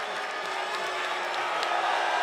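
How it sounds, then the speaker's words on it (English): Wrestling arena crowd at an NXT TakeOver event in Portland, a steady roar of cheering and murmur filling the hall, continuous and moderately loud with no clear applause bursts. "The incredible crowd here in Portland"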